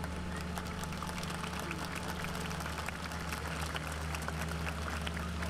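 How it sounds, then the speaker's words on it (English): An audience at a Veterans Day 2015 ceremony applauds a cadet, a steady wash of many claps heard at a distance over a constant low mechanical hum. "So if you give him a round of applause."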